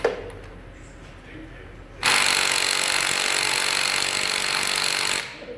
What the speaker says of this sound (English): So I'm going to try the Snap-on 3/8 gun, and see if that one comes off.